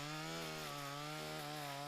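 Electric chainsaw pruning branches of tall plane street trees from a ladder truck, a steady loud whining drone with no pauses, close by and alone.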